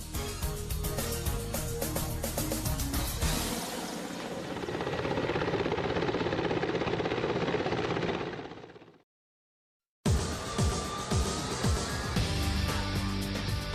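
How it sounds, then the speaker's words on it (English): Mi-35 attack helicopter, a Russian military gunship, with a loud, steady rotor and engine roar that continues unbroken for about nine seconds, cuts out briefly, then returns at full strength. "Mi-35 type helicopters and their modifications possess a high performance"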